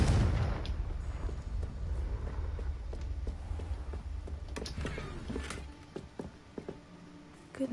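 Confringo fire spell blasts in Hogwarts Legacy, a string of booming, explosive impacts with sharp cracks, heavy low rumble early on, then sparser hits fading toward the end.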